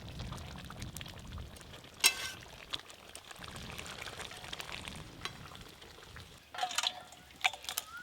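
Cooked chicken curry is poured out of the cooking pot with a soft, low wet rush, broken by a few sharp utensil clinks against the metal.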